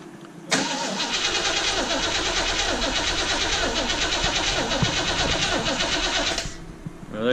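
A Land Rover Defender 110 V8 engine cranks over steadily on the starter for a compression test, a loud, continuous rhythmic chugging that runs about six seconds and then stops.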